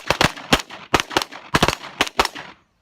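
Gunfire from a group target shooting at a hot range in Idaho, a rapid run of about a dozen sharp, close shots in uneven pairs and singles, ending abruptly in silence.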